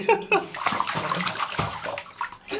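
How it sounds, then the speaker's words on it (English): Bath water splashes and sloshes in a tub, with irregular bursts of splashing while a voice speaks over part of it. "Splish, splash, you are taking a bath."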